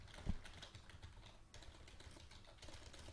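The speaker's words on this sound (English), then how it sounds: "This is some text that we're going to type." Fingers typing steadily on a computer keyboard, a continuous patter of quiet key clicks at close range with a slightly heavier tap near the start, no speech.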